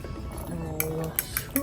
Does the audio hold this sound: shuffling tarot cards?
no